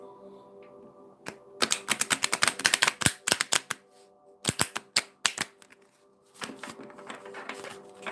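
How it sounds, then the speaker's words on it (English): Tarot cards being shuffled by hand in rapid riffling bursts, close and crisp, with a few pauses between rounds of shuffling and no talking. "I'm actually just going to do a proper shuffle of the cards as well, so I can get a clear reading for us"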